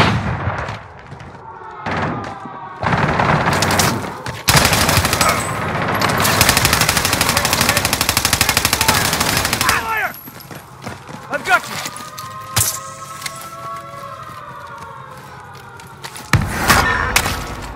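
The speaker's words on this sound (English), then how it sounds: "Taking fire here." Warzone gunfire on Rebirth Island: long bursts of rapid automatic fire and scattered single shots, loud and close at times, with thumping footsteps and game voice lines in between.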